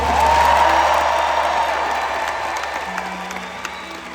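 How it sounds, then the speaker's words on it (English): A concert crowd in San Francisco applauds and cheers for a jazz club performance, a steady wash of clapping that starts full and slowly thins over a few seconds. "Let's get a round of applause."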